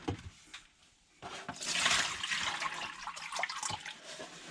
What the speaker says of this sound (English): we're slowly just draining out this water